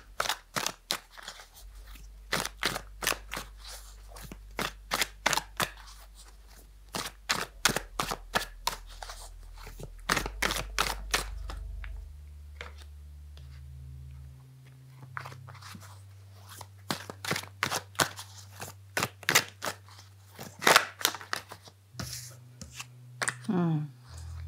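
Tarot-style cards are shuffled and drawn for a reading: repeated quick riffling flutters in bursts, then softer slides and taps as cards are laid down, close and fairly quiet, with low background hum.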